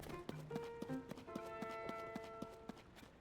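Horse hooves clip-clop in a steady rhythm in the video game Zelda: Tears of the Kingdom, evenly spaced clear taps over tonal game music, fairly close, with no talking.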